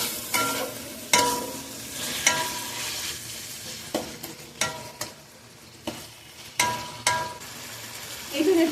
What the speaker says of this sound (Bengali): ভালোভাবে মিক্স করে নিব যাতে মশলাগুলো চামড়ার মধ্যে যায়